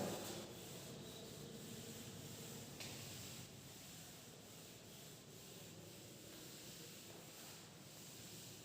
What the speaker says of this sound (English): Now top part I am rubbing.